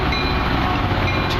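A METRA commuter train rumbles past at Hinsdale, loud and close, a steady roar of rolling wagons with no pauses through the short stretch.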